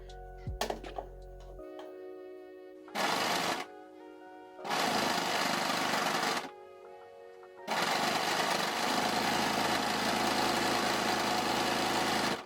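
A sewing machine stitches elastic along a dress seam over the strap, running in three bursts of steady close mechanical whirring with short pauses between them. A clunk and a brief rising whine come before the first burst.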